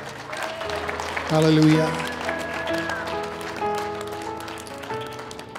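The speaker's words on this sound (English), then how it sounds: "Give him a good hand clap this morning, a shout of glory." Church congregation clapping hands during a Sunday morning service, a broad wash of applause under sung or spoken praise, with a voice calling out over the sustained musical tones.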